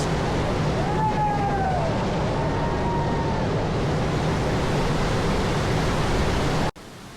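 Balon-Balon Falls in Cavinti, Laguna roars as a dense, steady rush of falling water, loud and unbroken until an abrupt cut near the end.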